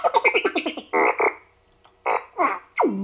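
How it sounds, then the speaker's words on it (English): R2-D2-style fart sound effects from an RC sound system: a rapid sputtering burst followed by several separate buzzy, croaking blasts, loud and close with no talking. "Number 2 is fart sounds."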